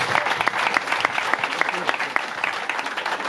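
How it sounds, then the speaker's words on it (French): Wedding guests break into applause, a dense, steady burst of many hands clapping close by, with murmuring voices mixed underneath. "On applaudit, s'il vous plaît."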